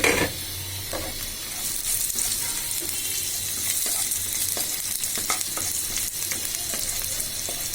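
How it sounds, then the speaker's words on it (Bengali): Cumin seeds and bay leaves sizzle in hot oil with browned onions, a loud steady frying crackle close by with occasional stirring scrapes. "পেঁয়াজ লাল হয়ে গেছে, এবার আমি এতে জিরা এবং তেজপাতা দিয়ে দিলাম।"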